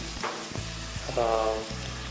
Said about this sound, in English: the marinated fish fries in the sauteed tomatoes and